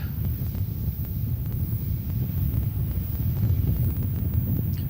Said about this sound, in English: Wind is really picking up now.